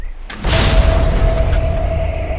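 A single heavy cannon blast from an M109 self-propelled howitzer booms out abruptly and loud, followed by a long rumbling roar and ringing that lingers without fading much.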